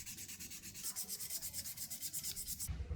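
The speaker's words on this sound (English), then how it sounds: "It's also a good idea to lightly sand the surface of the tube with sandpaper." A plastic tube being lightly sanded with sandpaper, a rapid rhythmic scratchy rubbing of close, evenly spaced strokes that stops abruptly near the end; no talking.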